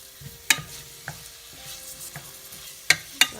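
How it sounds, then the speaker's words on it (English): Garlic sautéing with salt in a pan gives a low, quiet sizzle, broken by a few sharp clicks and taps of a utensil against the pan. "Let this saute."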